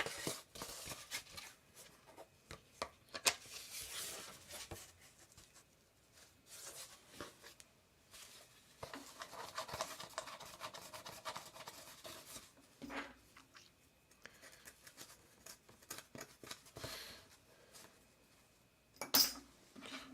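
A metal screw is tightened into a nut on a DIY cardboard laptop mount, giving faint, close scraping and clinking with a few sharper metallic taps and no talk.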